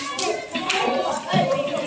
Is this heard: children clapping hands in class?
yes